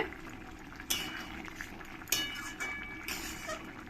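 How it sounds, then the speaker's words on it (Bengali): Fried prawns go into a simmering Bengali-style prawn curry broth, marked by a few soft metallic clinks of a spoon on the pot over a faint, steady bubbling hiss. "এবার আমি এর মধ্যে দিয়ে দেবো যে চিংড়ি মাছগুলো ভেজে রেখেছি"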